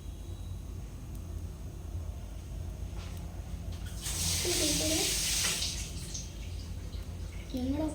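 Water gushes from a tap for a couple of seconds, a steady hiss with some splashing as hands are rinsed, set against a quiet indoor room with low background hum.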